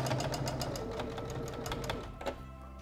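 A sewing machine stitches the waistband seam of a lace skirt in a fast, steady run of needle strokes. It slows near the end and finishes with a brief click, and no one speaks.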